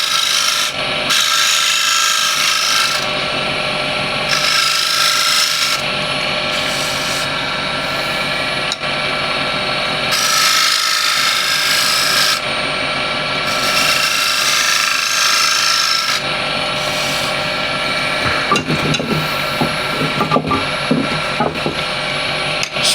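Wood turning on a lathe, with a small skew chisel undercutting a decorated ridge: a close, raspy scraping hiss comes in repeated passes with short breaks between, the spinning work humming steadily underneath.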